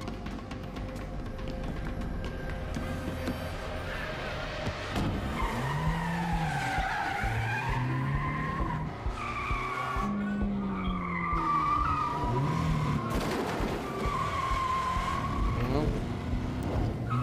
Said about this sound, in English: High intensity car chase.